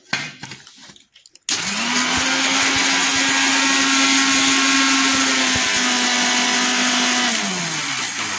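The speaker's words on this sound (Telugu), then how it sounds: "ఇప్పుడు మిక్సీ పట్టుకుందాం" A kitchen mixer grinder spins up after a second of clatter, its motor whining at a steady high pitch as dried red chillies and salt tumble inside, close and loud for about six seconds before slowing down.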